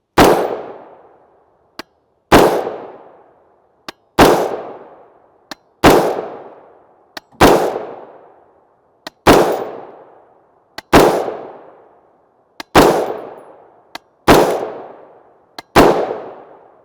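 Nine loud, sharp gunshots from a 7.5 inch short-barreled AR rifle firing .223 Remington 77 grain OTM rounds, evenly spaced about two seconds apart, each a crisp crack with a ringing decay and a fainter click between shots.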